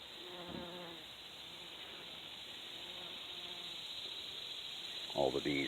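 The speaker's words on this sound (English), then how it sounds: "Good morning, bumblebee." Bumblebees hum steadily around a large catnip plant in a garden corner, a continuous close buzz filling the scene, with brief voices speaking at the start and end.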